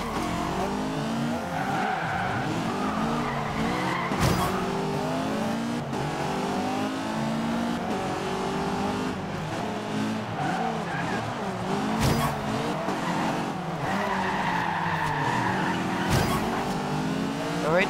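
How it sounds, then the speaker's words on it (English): Car drifting in the Forza racing video game, engine revving continuously with long wavering tire squeals and skids, a few sharp bumps and impacts, loud and close with no talk. "Alright, nice drift."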